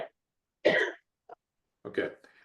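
A man coughs at a meeting, a short burst followed by a second cough-like sound after a pause, fairly close and alone with no talk.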